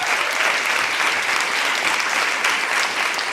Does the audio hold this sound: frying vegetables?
no